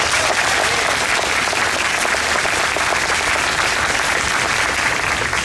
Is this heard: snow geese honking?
no